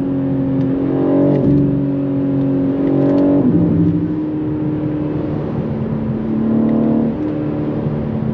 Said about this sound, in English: Oh, the pops and bangs!